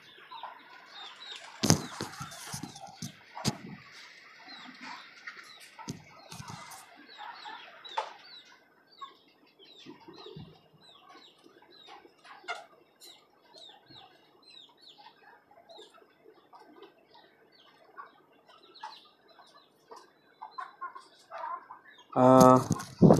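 Domestic chickens on a rooftop farm cluck and call throughout, with bursts of wing flapping near the start and a louder flurry of activity at the end; the birds sound fairly close, with no talking.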